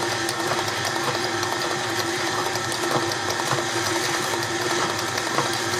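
An electric mixer runs steadily on a low speed, beating strawberry New York cheesecake batter, a continuous whirring motor hum with faint rattling, close and even throughout with no talk.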